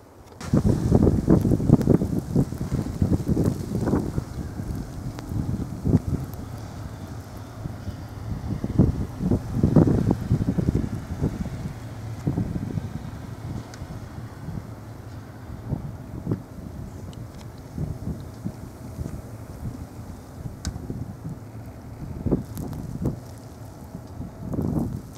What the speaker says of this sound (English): we got a little clipper slash blizzard running through the Picker Hood